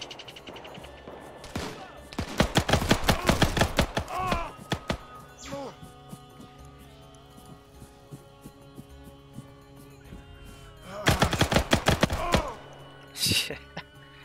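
Two loud bursts of rapid video-game gunfire as a player shoots enemy AI soldiers in an Arma-style military operation, one early and one near the end, with scattered single shots and thuds between them and a voice talking.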